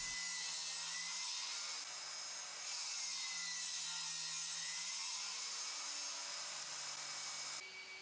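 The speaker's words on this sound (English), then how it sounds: "so I did that at the table saw." Table saw cutting a V groove into a wooden jig made for cutting rebar fence pieces, a steady loud broadband whine with a low hum running continuously, briefly shifting in tone as the blade works through the wood.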